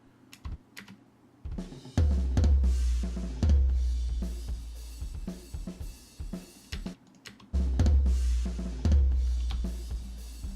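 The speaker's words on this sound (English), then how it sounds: "you can hear that the hi-hat sounds very distant in this mic." Addictive Drums 2 virtual kit playing a beat with loud kick and snare hits, the hi-hat sitting far back and distant in the mix, strikes repeating in a steady groove.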